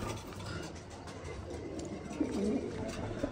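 Pet hobby pigeons kept at a home loft give soft, low coos close by toward the end, over a steady background hiss.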